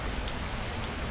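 Steady rain falling in a video game, an even dense patter of drops on surfaces, continuous and fairly loud with no voices.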